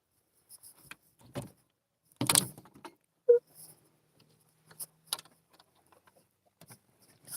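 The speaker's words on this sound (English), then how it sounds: "let me open this door up" A door being opened on a chicken coop at sunrise: scattered clicks, a rattling latch and scraping knocks, then a creak and a few soft taps in near silence.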